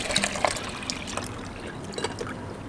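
A drip coffee maker brews a 10-cup pot while running off a small solar panel and inverter setup: a soft, steady trickle of water with faint gurgles, fairly quiet and close, with no one talking.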